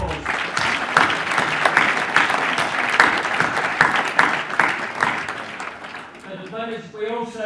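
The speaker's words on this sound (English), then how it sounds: "let's give the diploma students a round of applause" A graduation ceremony audience claps for diploma students, sustained applause with distinct rhythmic clap peaks, then a voice begins speaking over the fading clapping near the end.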